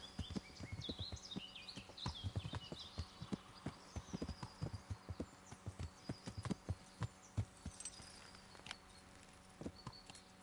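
Horse hooves clip-clop in the medieval video game Kingdom Come Deliverance, a close, uneven run of sharp knocking steps with a faint whinny and birdsong in the quiet background.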